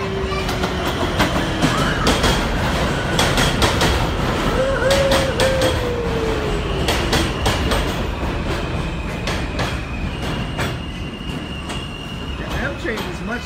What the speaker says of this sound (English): Look at that train. It is coming right down the track.